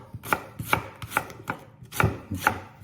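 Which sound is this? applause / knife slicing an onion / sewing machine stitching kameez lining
knife slicing an onion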